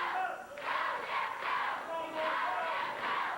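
A wrestling arena crowd cheering for Jeff Jarrett during a televised match, a steady roar of many voices surging in repeated waves, with a commentator's voice faintly mixed in.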